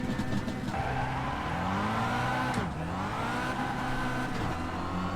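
Race cars pull away from the line together in an iRacing Kia Cup round at Zolder, engines droning loud and close with rising revs and brief tire squeal across the field.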